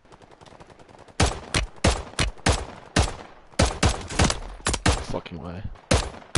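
Sharp, loud pistol gunshots in a video game, fired singly and in quick pairs at an irregular rhythm, with a voice speaking briefly between them.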